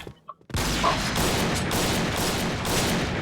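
Sniper rifle gunfire in the shooter game Point Blank: a brief quiet lead-in, then a sudden loud blast that rolls into a sustained, dense crackling roar of fire for the rest of the moment.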